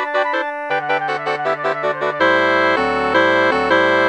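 Orchestral woodwinds from flute down to bassoon play together, opening with short repeated staccato notes over a held bass, then moving into sustained chords.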